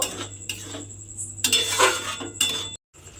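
A metal lid set onto a cooking pot of kochur loti (taro stolon curry) on a gas stove, giving a few close clinks and scrapes of metal, then a brief silence.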